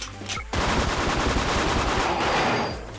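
Rapid gunfire from the online shooter game Wolfteam, a dense, loud burst of shots that starts after a brief quieter moment and keeps going almost without a break, with no talking over it.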